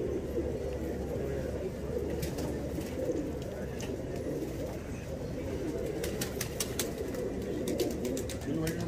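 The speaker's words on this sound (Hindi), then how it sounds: "657 पे एक कबूतर बैठ गया" Pigeons coo softly through steady low background rumble at a Delhi pigeon-flying competition, with faint chirps and occasional wingbeats over a continuous noisy bed.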